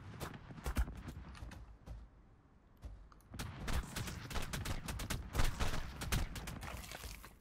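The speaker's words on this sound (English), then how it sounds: "they can do that sort of spike turret attack to you in the wild" A velonasaur in the video game Ark: Extinction fires its spike turret attack at a pack of raptors: rapid volleys of sharp, gunfire-like cracks, a brief lull near the middle, then dense bursts again.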